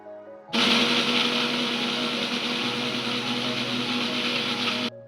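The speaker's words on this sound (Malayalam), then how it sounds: "നല്ലതുപോലെ ഒന്ന് ജ്യൂസാക്കി മിക്സിയിലിട്ട് അടിച്ചെടുക്കാം" A loud electric mixer blending raw mango juice whirs steadily for several seconds, starting abruptly and cutting off at the end, its motor pitch dropping slightly midway.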